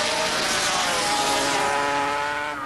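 A racing motorcycle from 1985 screams along a track, a loud, sustained engine roar that holds steady and fades only slightly at the end.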